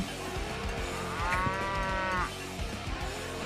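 A cow moos in a long, loud, drawn-out low call rising in the middle, set against a busy background of thumps and clatter, as a sound effect during a sports talk show.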